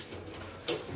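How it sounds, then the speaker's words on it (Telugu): Water splashes and runs from a tap into a dish stand set to soak, a short close trickle that swells into a brief louder gush. "గిన్నె స్టాండ్ మెయిన్ ఇంపార్టెంట్ కదా, అందుకోసం ఇందులో వాటర్ అంతా వేసేసి నానబెడతాను."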